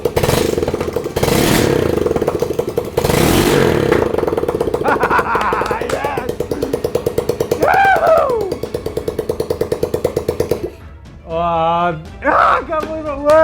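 A homemade go-kart built from pallets, with a shifter engine, pulls away in first gear. The engine rattles loud and close with a fast, rough pulsing beat, and voices shout and cheer over it near the end.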